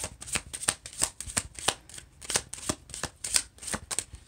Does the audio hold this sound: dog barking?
no